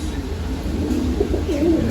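Pigeons coo softly and steadily in low rolling murmurs, close by, over a constant background hum.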